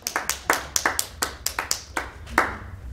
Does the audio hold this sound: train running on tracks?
no